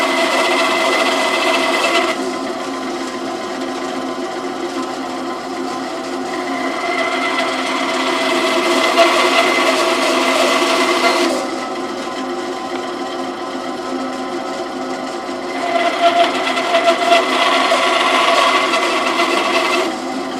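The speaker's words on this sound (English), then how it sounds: "Alright, we're over here at the bandsaw, and I've got my little cross-cut sled here." Near and loud, a bandsaw with a cross-cut sled trims a pink marbled acrylic pen blank, its steady running whine rising into three longer cutting passes separated by lighter running between them.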